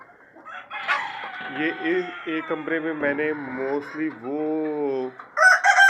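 Chickens and roosters kept in a room of a small poultry farm cluck and call in the background while someone talks close by, with a sharper bird call rising at the end.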